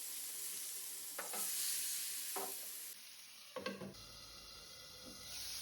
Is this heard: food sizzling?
yes